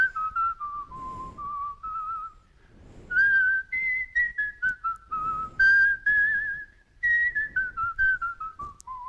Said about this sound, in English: Yes, that's some nice whistling